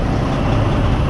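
A 2006 Freightliner Columbia truck engine idles nearby with a loud, steady low rumble and no voices; the truck is not building air pressure.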